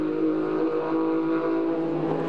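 Porsche Cup race cars battle for sixth place on the Croft circuit in the 2001 Michelin Porsche Cup, giving a steady, sustained engine drone with a clear tonal whine that holds level throughout, with no voices.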